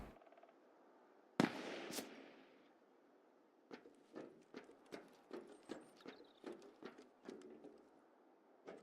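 Distant gunfire in Escape from Tarkov: a sharp crack early on, then a series of faint, evenly spaced shots popping far off in a quiet outdoor space.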